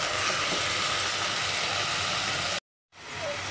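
Drumstick leaves sizzling with sautéed onions in a pan for murungai keerai chaaru, a loud, steady frying hiss that cuts out briefly near the end and then returns without any voices.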